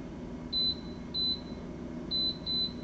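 An air fryer's control panel gives four short, high electronic beeps in two pairs while being set, each crisp and close, over a low kitchen background hum.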